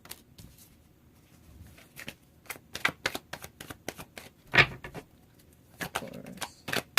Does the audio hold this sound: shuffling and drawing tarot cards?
yes